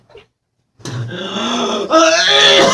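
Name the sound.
person gagging and struggling to breathe after chugging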